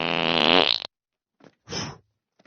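Cartoon fart blasted straight into someone's face, a long, loud, buzzing burst that cuts off abruptly, followed by a couple of fainter, shorter sputters after a pause; no talking.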